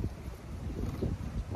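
Steady wind rumbles and buffets against the microphone outdoors at a pigeon loft, a low gusty roar that swells and dips throughout with no voices.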